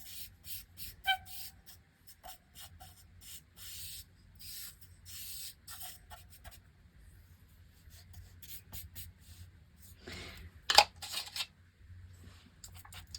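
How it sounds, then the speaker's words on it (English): Compressed charcoal scratches and scrapes across paper in short, irregular strokes, soft and close, with one louder sharp stroke near the end and no talk. "the sound of the charcoal on the paper"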